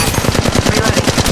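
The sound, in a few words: gunfire in the Apex Legends Mobile video game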